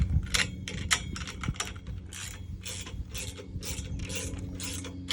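Rapid, close clicking of a ratchet wrench tightening a plastic mounting bracket, bursts of ticks with short pauses between strokes, under a low background hum.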